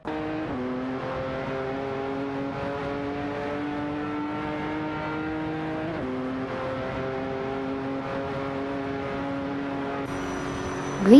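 Racing engines in a simulated race, a Nissan GT-R Nismo dueling a McLaren F1 GT, droning steadily at high revs with gear-shift steps in pitch and a sharp rise at the very end, no voices.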